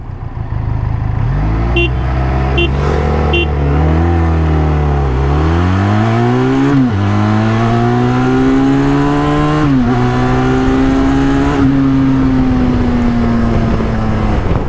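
A Benelli TRK 502 motorcycle accelerates hard from 0 to 100, its engine note climbing steadily through several gear changes with brief dips between shifts, loud and close throughout, then settling into a sustained high-speed drone.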